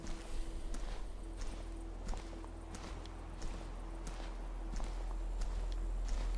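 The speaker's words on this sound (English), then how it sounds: "I heard them footsteps come" Footsteps crunching at a steady walking pace in the survival shooter Deadside, fairly close and regular under a constant low background hum, with no voices.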